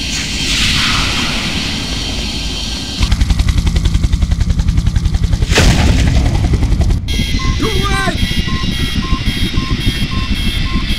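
Project IGI game cutscene: a loud roaring aircraft drone, then a rapid run of gunfire-like bursts, a heavy blast and a shifting electronic whine with beeping, all close and intense.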